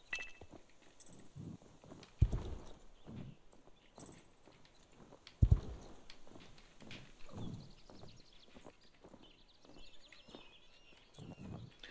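Horse hooves clip-clopping in a video game, a sequence of soft thuds at close range with a couple of sharper impacts, over a quiet background.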